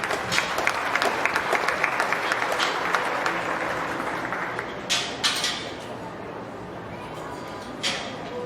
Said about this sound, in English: Give these kids a nice round of applause if you could.